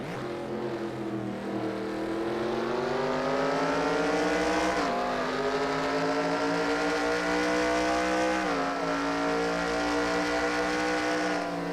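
Race cars at Montreal in NASCAR Racing 2003, sustained loud engine drone with steady rising pitch and two audible gear shifts, continuous and close.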